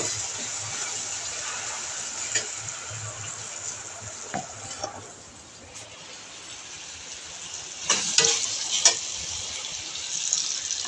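Green chilies and garlic fry in oil for a garlic tomato chutney, giving a steady broadband sizzle throughout with a few brief louder crackles and stirring clatters near the end; no one talks.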